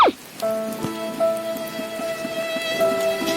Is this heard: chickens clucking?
no